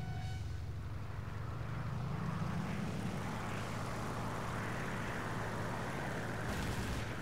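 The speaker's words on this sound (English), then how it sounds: "But then I heard engine sounds behind me" Piston aircraft engines droning steadily in a War Thunder realistic air battle, a constant loud low roar with rising and falling pitch as planes maneuver nearby, with no talking.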